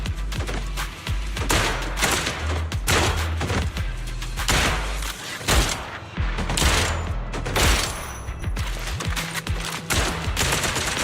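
Repeated video game gunfire in rapid bursts of loud shots and booming thumps, firing in dense volleys with brief gaps, close and dominant without any talk.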